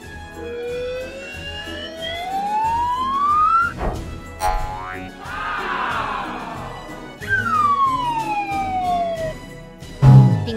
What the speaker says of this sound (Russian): Пингвиненок так мечтал о пожарной машинке.